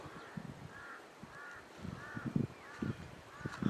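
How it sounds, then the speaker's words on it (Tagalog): Several crows caw in a rural Philippine setting near a cliff, harsh calls repeating every half second or so at moderate distance over outdoor background noise, with rustling and low thumps nearby. "Ayun pa yung isang uwak, oh."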